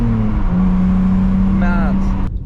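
A BMW E46 with a new clutch and flywheel accelerates hard, its engine drone rising steadily in pitch, close and loud, with a brief voice near the end.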